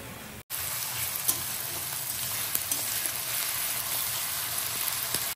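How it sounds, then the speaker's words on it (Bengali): Bay leaf, dried red chilli and cumin seeds crackle in hot oil in a wok, a steady close sizzle with small pops and spits throughout. "কড়াতে তেল দিয়ে তেজপাতা, শুকনো লঙ্কা আর জিরে ফোড়ন দিয়ে নিয়েছি"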